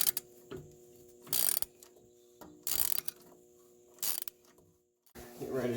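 A ratchet wrench clicks in several quick bursts, loosening the manifold bolts on a Datsun 620 pickup; close, crisp ratcheting runs separated by short pauses, with soft handling noises between them.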